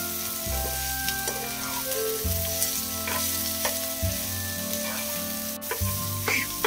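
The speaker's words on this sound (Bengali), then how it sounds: "এবারে সবকিছু একটু ফ্রাই করে নেব।" Egg fried rice ingredients frying in a pan in a Kolkata-style kitchen, a loud steady sizzle with repeated scrapes and stirring strokes and a low hum running underneath throughout.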